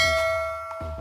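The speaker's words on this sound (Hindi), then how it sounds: "सब्सक्राइब करते वक्त ना घंटी बजा देना।" A single bright bell ding used as a subscribe reminder sound effect, a clear metallic strike that rings out and fades, followed by a soft second tap near the end.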